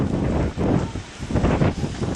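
Strong wind buffets the microphone outdoors, loud gusting rumble that surges and eases in waves with a steady roar throughout.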